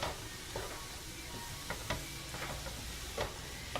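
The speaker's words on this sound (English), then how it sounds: "Once the egg is done, you just toss it around. I still got the heat on high." Cauliflower rice with egg is stir-fried in a pan on high heat, giving a constant sizzle broken by scattered scraping and clinking from the utensil as it is tossed.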